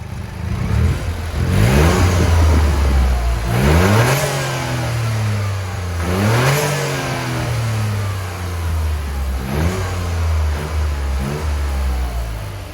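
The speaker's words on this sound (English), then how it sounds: "Let's give it a few revs." A Toyota GR Yaris engine with an aftermarket GPF-back exhaust revs up repeatedly after a cold start, pitch climbing and dropping in several bursts over a steady idle, loud and close with no talking.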